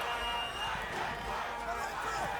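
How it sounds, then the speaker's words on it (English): A crowd at a five-a-side football grand final roars in a dense, continuous wash of cheering and shouting, loud and unbroken throughout. "Really rallying the crowd behind them."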